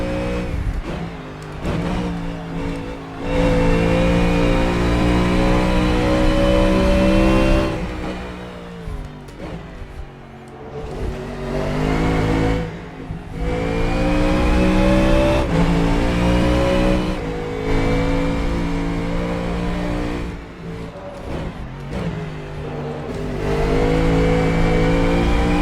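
The URD Coyote GT3 race car in a racing simulator revs hard and loud, its engine note climbing through repeated gear changes with brief lifts off the throttle, continuous and close with no talk.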